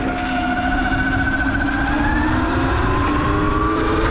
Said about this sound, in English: today we're gonna do the top speed run on the